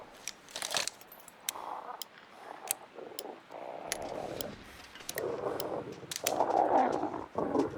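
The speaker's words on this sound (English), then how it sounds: "Do a quick reload." Weapon reloading in The Long Dark: a run of sharp metallic clicks and clacks, close and crisp, spaced irregularly over quiet rustling and handling noise.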